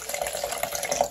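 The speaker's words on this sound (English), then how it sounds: "we want to test it if it's really waterproof. So we add some water here." Water poured from a pitcher into a thick pet waste bag, a brief bubbling splash that runs on evenly and then stops short, close up with no talking.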